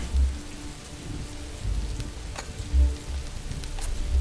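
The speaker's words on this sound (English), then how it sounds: "It is raining, and we can go back to sleep again." Rain falls steadily in the video game Rising World, with constant dense patter near at hand and low rumbles swelling now and then underneath, no voices.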